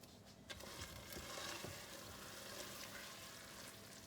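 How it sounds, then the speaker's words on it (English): Steady crackling sizzle of vanilla hitting a hot fudge mixture, continuous and fairly close, with faint scraping from stirring. "The sizzling is the vanilla."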